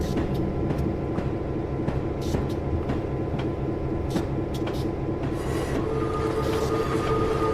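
An EMD F7 diesel locomotive on the B&O Mountain Subdivision in Train Simulator, with a steady loud engine drone and rail rumble and regular sharp wheel clicks throughout.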